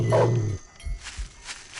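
A dog growls low and loud up close in the 1999 PC game Shadow Man, then gives way to a few soft thumps and quiet rustling.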